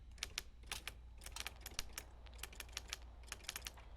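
Fast, irregular key clicks from a typewriter in a noir audio drama. The strokes are soft and come in quick clusters over a faint low hum.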